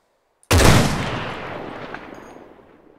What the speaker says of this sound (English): Now, I'm only firing this once, because I'm just demonstrating to you guys.